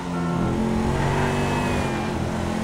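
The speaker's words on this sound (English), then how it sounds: "Hitting that rev limiter there." A car engine in the video game GTA V revving hard up to the rev limiter, a loud, sustained, rising engine whine heard from the cockpit view, with no talk.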